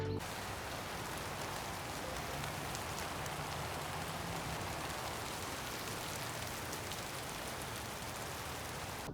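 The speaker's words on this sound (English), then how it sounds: "It is actually starting to rain now." Steady rain falls and patters on surfaces nearby, a constant soft hiss that continues without pause.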